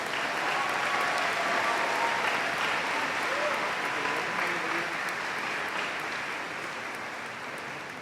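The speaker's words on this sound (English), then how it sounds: "Ladies and gentlemen, a round of applause for the baccalaureate graduates from the A.R." Sustained applause from a graduation ceremony audience for business school baccalaureate graduates, a steady wash of clapping that slowly fades toward the end.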